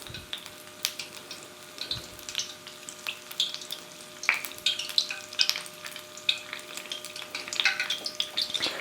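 Apple fritter batter fries in a pan of hot oil, crackling and popping continuously up close with bright spitting bursts that grow busier toward the end, no voices.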